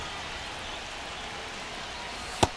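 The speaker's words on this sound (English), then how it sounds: "This rain is not letting up." Steady rain hisses over a baseball game in MLB The Show 25, a continuous even wash of sound with one sharp crack or tap near the end.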